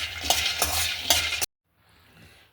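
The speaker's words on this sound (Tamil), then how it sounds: "இது நல்லா வந்து பச்சை வாசனை போகிற அளவுக்கு வறுத்து எடுத்துக்கிறேன்" Green peanuts are dry roasted in a pan, a rough rattling rustle with a few sharper scraping stirs, close and fairly loud, that cuts off abruptly into near silence.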